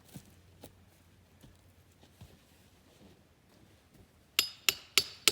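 Sledgehammer blows used to start something on a ranch build: four sharp, loud metallic strikes close by in quick succession near the end, after a quieter stretch of faint knocks.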